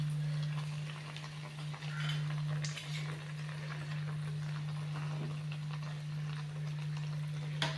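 Athirasam, a sugar sweet made with puttu flour, frying in hot oil with a steady soft sizzle and bubbling, accompanied by a constant low electrical hum.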